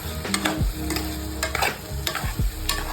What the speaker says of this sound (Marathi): आणि एक कप त्याच्यामध्ये आपण आता पाणी ॲड करणार आहोत